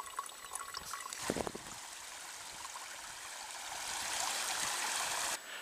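A small stream flows and trickles steadily nearby, faint and continuous, with a brief splash partway through.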